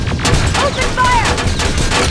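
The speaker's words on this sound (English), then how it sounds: "Open fire!" Gunfire in the Terminator: Resistance video game, a loud continuous fusillade of rapid shots filling the whole moment, close and dense, with faint tonal game effects over it.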